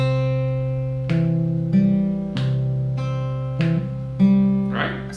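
Beginner fingerstyle guitar picking on an acoustic guitar, clear plucked notes ringing over a steady low bass pattern, with fresh attacks about every second across the phrase, close and alone.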